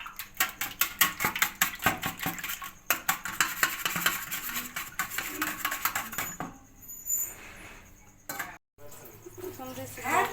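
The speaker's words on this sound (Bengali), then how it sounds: "3টা ডিম নিয়েছি, ডিম 3টাকে ফেটে নিতেছি।" Three eggs being whisked in a bowl, a fast run of sharp rhythmic clinks that thins out midway, followed by quieter handling sounds.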